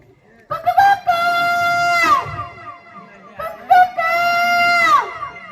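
A man imitates a rooster crowing, giving two long, loud, drawn-out cock-a-doodle-doo calls with a crowd reacting in the background.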